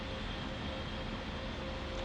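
Twin engines of an A-10C attack aircraft in a flight simulator game run with the auxiliary power unit, giving a constant broadband roar and whine at low level with no speech over it.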